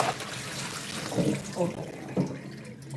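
Fruit rinsed in salt water in a sink or basin gives soft splashing and running-water sounds, with a few brief louder swishes, heard close by under a low, steady background.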